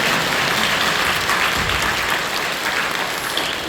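A church congregation claps together in sustained, dense applause that stays even and moderately loud for several seconds, with no voices on top.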